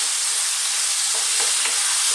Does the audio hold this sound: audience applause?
no